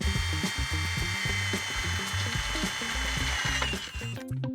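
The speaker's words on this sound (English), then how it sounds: "I can screw down through the handrail into the brackets to secure." A power drill runs steadily, driving screws down through a Trex Signature composite handrail into its brackets, a close, continuous whirring drone with a rhythmic pulsing grind, ending abruptly.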